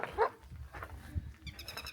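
Young hound puppies bark and whimper at an outdoor ashram under cloudy skies, giving a few faint, short yelps at a distance with no one speaking.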